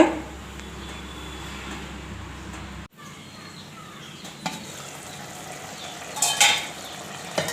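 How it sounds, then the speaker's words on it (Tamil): Intestine (kudal) meat gravy cooking in a covered pot on a medium flame gives a steady soft bubbling hiss, broken by a brief cut, then a faint clatter and a louder sizzling burst near the end. "தண்ணி சேர்த்துட்டு ஒரு மூடி போட்டு ஒரு 10 நிமிஷம் அப்படியே வேகட்டுங்க. மீடியம் ஃப்ளேமில் வேக வைங்க."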